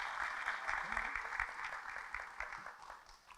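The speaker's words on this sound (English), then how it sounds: "a round of applause for Miss Patricia Stevenson and India Gosian" A crowd claps in a steady, fairly quiet patter at a fire department awards and recognition ceremony, honoring two people with a round of applause, with faint voices mixed underneath.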